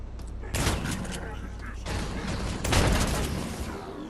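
A futuristic shotgun fires in System Shock (2024): a few heavy blasts with broad noisy bursts, one at the start and a louder one near the end, over a steady background rumble.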